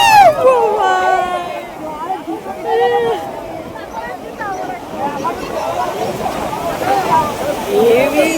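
Sea waves crash at Mandarmani beach with a broad, rolling roar, while excited voices talk loudly over the surf almost the whole time.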